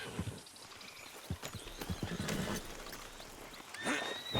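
Horse in Red Dead Redemption 2 with hooves clip-clopping in uneven steps and a whinny rising near the end, set against a quiet outdoor background of the video game.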